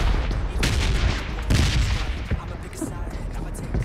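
Rapid gunfire in the battle royale game PUBG, sustained bursts of automatic shots rattling through the whole stretch at close range, with players chatting over the action.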